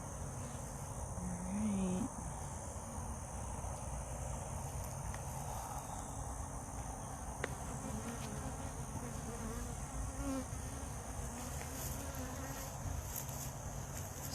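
Steady, dense buzzing of many honey bees fills the whole stretch, close by and unbroken, with a low hum beneath the insect drone.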